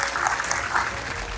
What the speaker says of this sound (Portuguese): eu quero muita salva de palmas pro João e pro Dória.